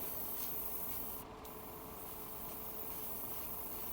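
Airbrush misting primer onto a Master Grade Providence Millennium Falcon Gunpla model kit, a steady close hiss of air and paint running continuously with no talking.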